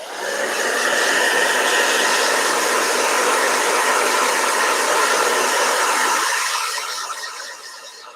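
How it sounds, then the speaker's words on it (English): A blow dryer drying a Crayola watercolor painting, a loud steady whirring hiss held close for about six seconds before it cuts off and fades, with no talking. "All right, blow dryer."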